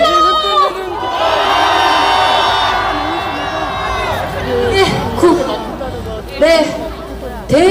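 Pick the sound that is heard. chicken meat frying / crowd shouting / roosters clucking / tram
crowd shouting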